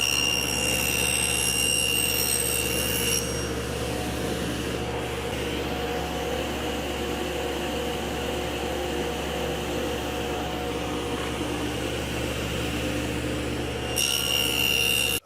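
A table saw cuts a wooden runner for a crosswise sled. It holds a loud, steady motor whine throughout, brightest while spinning free at the start and end, and a deeper, rougher grinding as the blade bites the wood in between.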